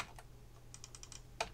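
Computer keyboard typing during a drafting session, a short scattered run of quick clicks followed by a sharper single keystroke, close but fairly quiet, with no talk.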